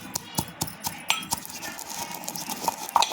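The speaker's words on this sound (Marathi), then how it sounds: "इथे आपण हे खलबत्त्यामध्ये हलकेसे बारीक करून घ्यायचे" Lightly roasted spices are crushed coarsely in a mortar and pestle for a samosa filling, giving a run of light, irregular metallic taps and clinks, close by with no talking.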